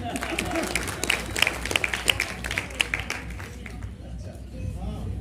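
An audience at a poetry recital applauds, a dense wash of clapping with sharper individual claps standing out, fading slightly toward the end.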